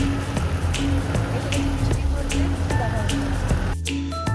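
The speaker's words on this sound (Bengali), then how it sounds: "এই হচ্ছে নাথুলার অবস্থা, বৃষ্টি আর বৃষ্টি।" Rain at Nathula Pass on the India–China border in East Sikkim, falling with snow: close, steady dripping and patter lasting the whole stretch, with scattered sharper drops standing out.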